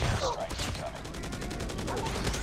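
Sustained automatic fire from the Hades light machine gun in Call of Duty Mobile, a loud, rapid, continuous rattle of evenly spaced shots filling the whole stretch.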